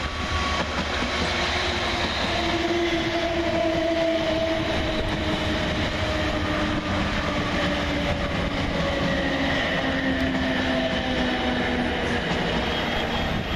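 A British Rail Class 455 electric multiple unit train rumbles steadily past nearby as it arrives at Surbiton station, with rising and falling motor whines over continuous wheel noise on the rails.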